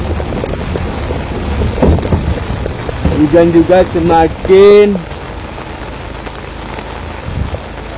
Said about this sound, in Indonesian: hujan juga